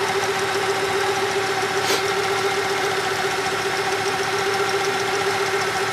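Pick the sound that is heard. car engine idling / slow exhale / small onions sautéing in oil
car engine idling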